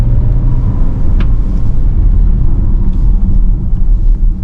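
A BAIC X55 II turbocharged SUV accelerates hard under kick-down, heard as a loud, steady low rumble of engine and road noise from inside the cabin, with no voices.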